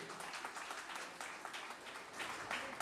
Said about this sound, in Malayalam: നിറഞ്ഞ കയ്യടികൾ.